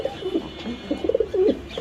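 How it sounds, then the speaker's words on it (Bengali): A pair of pigeons at a seller's in Mirpur, Dhaka, coo close by in a few soft, throaty rolling calls. No voices are heard. "সো দর্শক এখানে আছে এক জোড়া কবুতর"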